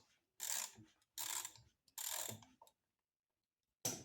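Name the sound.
ratcheting with a 1/2 inch socket wrench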